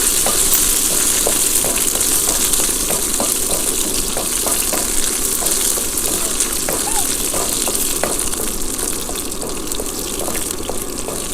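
Food fries in a pan in a Kerala kitchen with a steady, constant sizzle, while a utensil scrapes and stirs at irregular intervals throughout.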